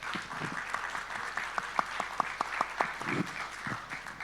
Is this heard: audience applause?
yes